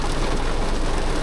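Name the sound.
heavy rain falling on the car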